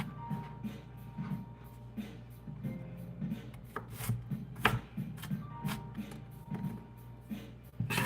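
Knife cutting a large piece of onion on a board, a run of close, irregular chops and taps at kitchen-prep pace, with no talking over it.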